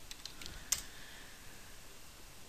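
Commands typed on a computer keyboard for a Left 4 Dead 2 server: a few faint, sparse key clicks with one sharper tap, set against a quiet steady background hiss.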